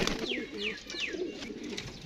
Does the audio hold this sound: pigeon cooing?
yes